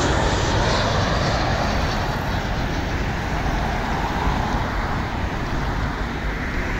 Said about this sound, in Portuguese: Mais um avião da Gol chegando.